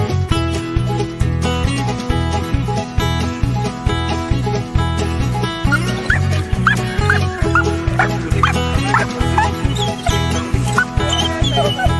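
A dog barks and whimpers in short yips over loud, steady rhythmic music that dominates throughout.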